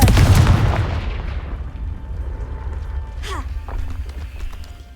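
A fiery Confringo spell explodes in the Hogwarts Legacy video game, opening with a loud, close boom that rumbles and slowly fades. A few fainter clattering game sounds follow the blast.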